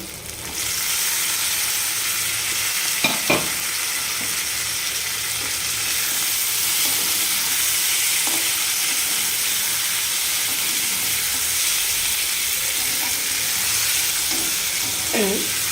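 Small puti fish fry in oil-separated spice paste, a steady broad sizzle running throughout, broken by a few clinking stirs and scrapes of the spoon near the start and end; no talking.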